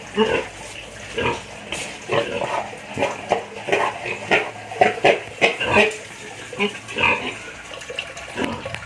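A restless sow in heat after weaning her piglets grunts and snorts repeatedly, close by, in a steady series of short rough bursts on a farm.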